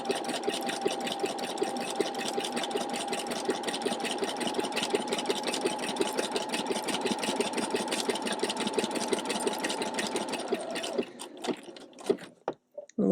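Sewing machine running a satin stitch around the curved edge of an appliqué tulip, a fast steady mechanical whir of rapid needle strokes that carries on evenly, then stops with a few stuttering final stitches and handling clicks.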